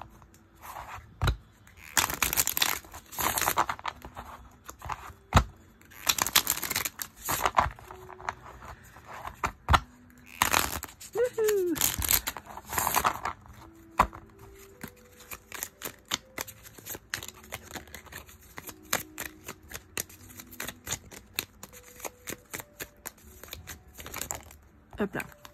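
Tarot cards being shuffled by hand: repeated riffling and papery flicks in bursts, close and moderately loud, with a voice talking between and over the shuffles.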